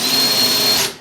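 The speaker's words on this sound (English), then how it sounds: "whenever I drill on tiles, by the way, I always start with a smaller drill bit" A power drill starting into ceramic tile in a bathroom repair with a smaller bit, giving a steady high whine for about a second, close and loud.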